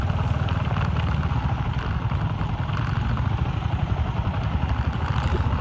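Motorbike ridden slowly over a badly broken rocky road of stones and gravel on the way to Bolumalai Fort, a steady mid-pitched engine drone with rattling clatter from the rough surface, close and continuous, no talk.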